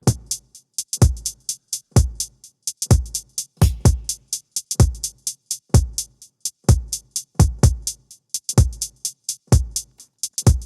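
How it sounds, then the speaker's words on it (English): Plucky synth notes in a swung, lilting rhythm, each one trailed by quieter eighth-note delay echoes that repeat steadily throughout. "we get some swung out notes, and there's some delay on it"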